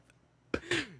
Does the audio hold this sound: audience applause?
no